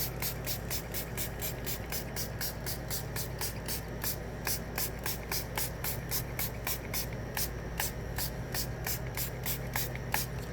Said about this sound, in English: I'm just using a green, and I'm just going to spray through all of the stencil